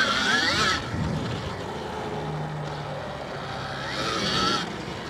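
Dirt bike ridden through a sweeping turn on a rutted trail, engine note rising and falling as the throttle opens, then easing through the bend and revving up again near the end.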